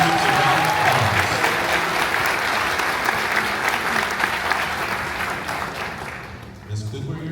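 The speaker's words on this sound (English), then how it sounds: "Please give these students a round of applause." Audience applause for students at an eighth-grade graduation ceremony, a sustained dense clapping that fills the room and slowly thins toward the end, with voices murmuring underneath.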